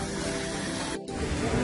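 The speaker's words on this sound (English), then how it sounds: "Oh, the waterfall's there." A small waterfall splashes into a pond at a Buddhist temple in Penang, a steady close rushing hiss that dips briefly at one point before continuing.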